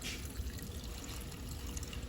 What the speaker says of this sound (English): I added some water to it.